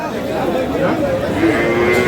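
Cattle, cows and calves, moo at Aftabganj cattle market in Dinajpur, with a few drawn-out lowing calls rising over the steady chatter of a busy crowd.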